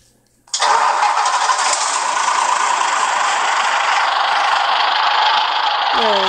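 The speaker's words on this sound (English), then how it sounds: "So, as you see, I'm going to start the engine real quickly." A truck engine in the Truck Driver 2 video game cranks and catches after a brief silence, then settles into a loud, steady, broadband running roar that holds for several seconds with no talk over it.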